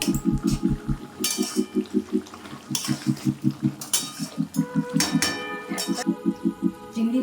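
A utensil stirs pumpkin and prawn curry in a metal pan, making a steady rhythm of scraping clinks close by, with brief sizzling between strokes.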